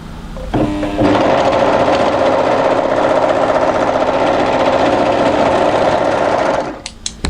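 An overlocker serger runs in one continuous, loud stitching burst while sewing a pocket onto a winter tee dress, starting after a short stuttered start and stopping cleanly near the end.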